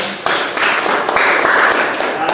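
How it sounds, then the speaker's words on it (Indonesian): A university history class applauds together, a dense, steady wash of many hands clapping close by, with faint voices mixed in. "Tepuk tangan semuanya."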